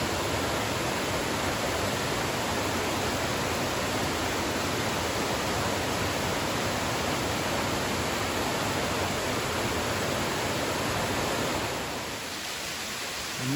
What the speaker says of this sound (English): This is Indian Creek Falls.